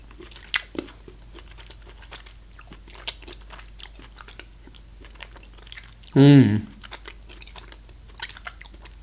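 Close biting and chewing of a fine coconut and chocolate sweet, with small crisp crunches and soft mouth sounds scattered throughout and one brief loud vocal hum partway through.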